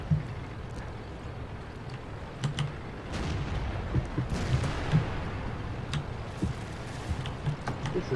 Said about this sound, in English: Artillery goes for me.